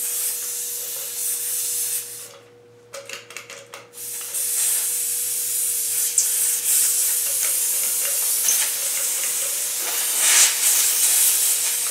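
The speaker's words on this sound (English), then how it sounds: "We got a leak on our regulator, dude." Compressed air hissing steadily from a leaking regulator on a cheap Harbor Freight spray gun hooked to an air hose, loud and continuous, briefly dropping off around a couple of seconds before resuming.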